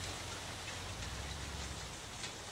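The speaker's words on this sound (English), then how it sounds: "Oh man, hailstorm." A hailstorm pelting a garden with raised beds, a dense, steady roar of stones striking surfaces that carries on without a break.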